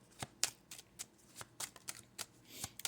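Close, crisp riffling and snapping of Kipper deck cards being handled and shuffled, with a quick irregular series of papery flicks and no talking.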